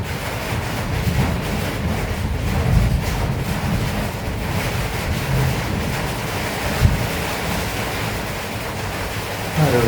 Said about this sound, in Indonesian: karena hujannya makin deras, nanti takutnya suara gua makin gak jelas